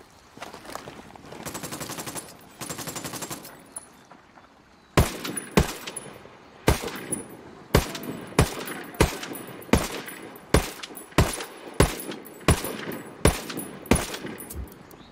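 Rapid bursts of automatic gunfire in the shooter game Ghost Recon: Wildlands: two sustained sprays, a short pause, then a steady rhythm of about a dozen loud, sharp single shots ringing out alone.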